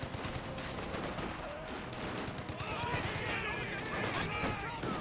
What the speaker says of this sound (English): Rifle squad's going to get hit by the flak half track.